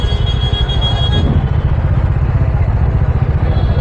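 A motorcycle engine with its exhaust silencer rumbles steadily and fairly close, a continuous low throbbing drone with some mechanical clatter.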